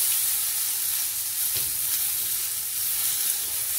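Potatoes hit hot oil seasoned with a bay leaf and Bengali five-spice, giving a close, continuous sizzle and crackle of frying with no voices.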